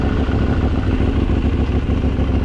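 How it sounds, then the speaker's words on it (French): KTM 890 Duke motorcycle engine running with a strange noise from its faulty quickshifter, a steady close mechanical drone with low clattery texture and no talking. "le shifter il fait un bruit de zingue"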